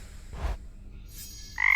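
A frog in the video game Hades 2 gives a few short croaks: a low, muffled grunt, a pause, a faint higher note, then a brief buzzing, reedy croak, close and clear with no speech.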